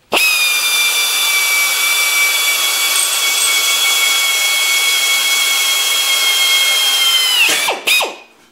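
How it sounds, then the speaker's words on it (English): A high-speed electric drill gun runs steadily in forward while building a racing lawn tractor frame, its loud whine holding for about seven seconds before slowing and stopping with a short final burst. "drill gun's a little bit of a high speeder."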